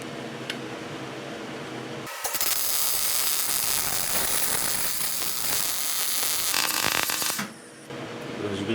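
Welding on differential gear teeth, the wire fed in as infill, gives a steady, loud crackling hiss that begins abruptly and runs for several seconds before cutting off, with a low background hum before and after.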